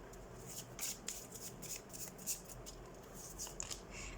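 Tarot cards are shuffled and drawn in a quiet room, with soft, irregular flicks and riffles at low volume, a few sharper card snaps standing out, and no speech over them.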